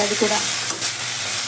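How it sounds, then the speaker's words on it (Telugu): Fenugreek leaves frying with vegetables in a pan for methi paneer masala, a steady soft sizzle with a few stirring scrapes close by, a short spoken phrase early on. "ఈ మెంతి కూర బాగా ఈ వెజిటేబుల్స్తో ఫ్రై అయిపోవాలన్నమాట"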